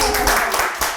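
A small group claps briefly in a Korean English-conversation lesson, a short burst of hand claps mixed with talking voices over about a second.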